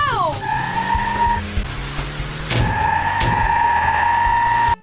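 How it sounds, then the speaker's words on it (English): Go-karts race and skid in the M&M's Kart Racing video game, with steady engine drone, tire squeals and rising electronic tones looping over game music for the whole stretch. "It's time to get into M&M's kart racing."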